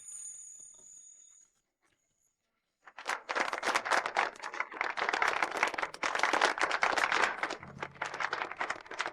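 After a quiet pause, wedding guests break into sustained applause welcoming the bride, dense and energetic clapping that continues steadily to the end.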